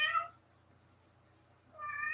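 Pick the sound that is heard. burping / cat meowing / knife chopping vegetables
cat meowing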